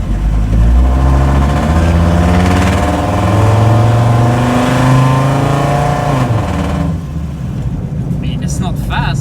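A Dodge Ramcharger fitted with a five-cylinder diesel pulls hard at full throttle, a loud, steady engine drone rising in pitch as it accelerates, with someone talking over it and the roar easing off near the end.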